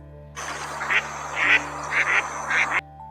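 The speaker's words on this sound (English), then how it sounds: "endless stretches of water bordered by mangroves resounding with bird calls." Several bird calls sound in short bursts over a steady background hiss in a mangrove-bordered wetland, a few quacking cries spaced through a couple of seconds.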